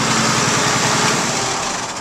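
A revved engine leaking coolant from an open valve on the intercooler gives a loud, continuous, close drone for a brief moment, without talk.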